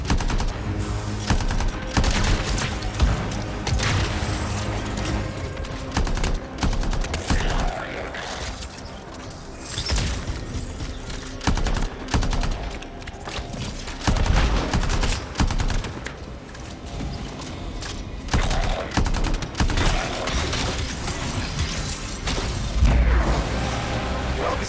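Enemy gunfire in the Anthem video game, dense and sustained bursts of automatic fire with crashes and booms layered in, loud throughout and mixed with occasional speech.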